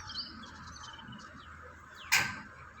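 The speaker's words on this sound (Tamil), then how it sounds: "மைனா, அப்புறம் காக்கா, அப்புறம் சின்ன சின்ன குருவிங்க எல்லாம் வரும்" Small birds chirping faintly at a distance from a daily feeding spot where mynas, crows and small sparrows gather, with a few short tweets and one sharp louder chirp or flap near the end.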